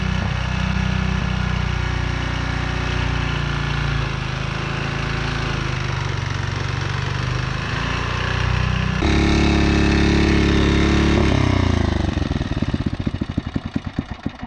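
An engine that burns a lot of oil idles steadily, a loud, continuous mechanical drone with vibration. The pitch shifts partway through, and the engine winds down into slowing, separate pulses at the end.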